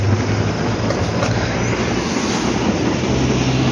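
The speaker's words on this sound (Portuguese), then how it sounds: "Ó o trenzão, rapaziada." A crowded commuter train passes close by, a loud continuous rumble of wheels and carriages on the rails with faint squealing, steady from start to finish and with no voices over it.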